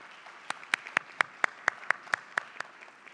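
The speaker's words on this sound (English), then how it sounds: "Can we give her a big round of applause, please?" A small audience at an Emirati women's entrepreneurship event claps in a sparse, regular rhythm, about ten distinct hand claps spaced evenly over a few seconds, fairly close and moderately loud with no voices.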